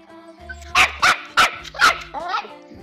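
A six-month-old chihuahua barks four sharp times in quick succession, close by, followed by a softer whining yip.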